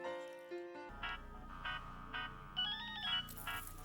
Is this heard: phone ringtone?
yes